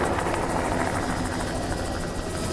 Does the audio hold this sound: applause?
no